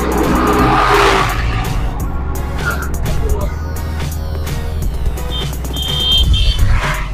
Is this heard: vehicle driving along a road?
yes